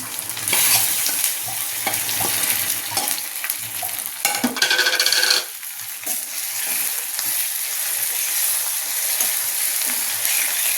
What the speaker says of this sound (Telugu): గోంగూర వేసాక చక్కగా ఇలా కలుపుకోవాలండి